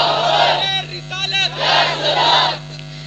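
A crowd shouting religious slogans in unison, several loud swelling bursts of massed voices rising and falling in rhythm, with a steady electrical hum beneath.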